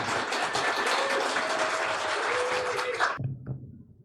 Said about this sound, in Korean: 우리가 큰 박수로 우리 최재자매님 앞으로 모시겠습니다